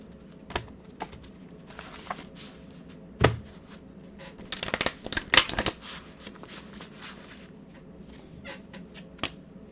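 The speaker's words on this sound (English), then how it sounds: "Let's get some more cards." Tarot cards shuffled and drawn by hand, a soft papery riffle with scattered flicks and a denser burst of card slaps midway, close and quiet, with no talking.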